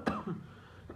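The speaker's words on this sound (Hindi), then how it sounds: "अभी हो गई गाइस मुझे खांसी" A single sharp cough near the microphone, followed by a softer throat-clearing rasp and a faint trailing cough, heard alone without speech.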